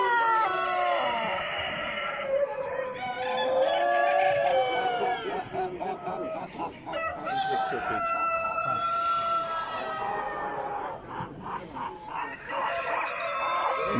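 Show chickens and roosters at a national poultry exhibition at Romexpo crow and cluck loudly, several birds overlapping in a busy hall, with faint voices in the background.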